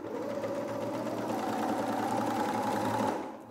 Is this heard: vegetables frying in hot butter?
no